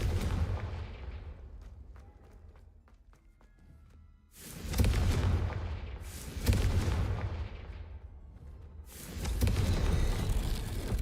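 Confringo fire-blast spell from Hogwarts Legacy, three loud booming explosive bursts, each with a sharp onset and a long rumbling decay, spread across the stretch with quieter game ambience between them.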